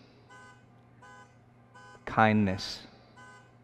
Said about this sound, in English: somebody's car alarm certainly went off